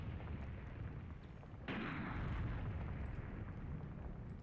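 Mortar artillery fire in a combined-arms war video game set in an Iran invasion, heard as a sudden heavy blast followed by sustained low rumbling and continuous battle noise, with no talk.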